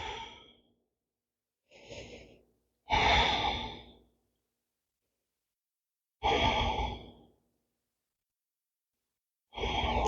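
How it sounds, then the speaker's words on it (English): Slow breathing during a yoga session done lying belly down, several close, deep breaths and sighs, each followed by a stretch of silence. "Feel the breath."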